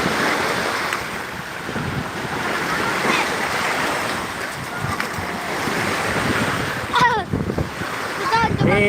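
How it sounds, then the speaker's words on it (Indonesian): Surf rolling in at Padongko Beach before sunset, a steady broad wash of waves with wind buffeting the microphone, a few brief chirpy sounds near the end. "Ini suasana jelang maghrib ya di Pantai Padongko."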